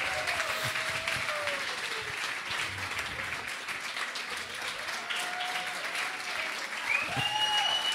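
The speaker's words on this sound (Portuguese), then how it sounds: "Uma salva de palmas para o nosso garçom." Steady audience applause fills a comedy bar during a hypnosis show, the clapping continuous and fairly even throughout, with faint voices and a few high tonal whistles or squeals rising over it.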